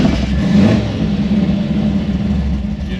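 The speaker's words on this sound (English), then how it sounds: "I like a cold rev." A 1964 Chevy II gasser engine revved while still cold, giving a loud, steady mid-range rumble that swells slightly early on and holds close for about three seconds.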